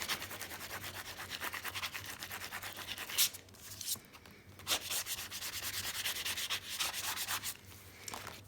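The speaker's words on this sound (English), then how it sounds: "Give it a rub down." A vinyl decal being rubbed down onto a surface, a close, steady scraping rub in fast back-and-forth strokes that runs the whole time with a few short pauses and no talk.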